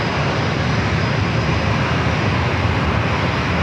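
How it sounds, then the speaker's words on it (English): An E-2D Hawkeye on landing approach at San Diego airport produces a loud, steady, close engine roar that fills the whole stretch without a break. "It was a nice approach. I like that. E2D Hawkeye."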